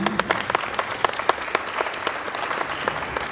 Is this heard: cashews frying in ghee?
no